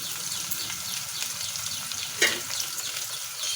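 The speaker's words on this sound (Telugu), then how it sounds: "అల్లం వెల్లుల్లి కొంచెం బాగా వేగిపోయిందండి" Ginger and garlic frying with onions in a pan, a steady close sizzle and crackle of oil throughout, with one brief louder spatter midway.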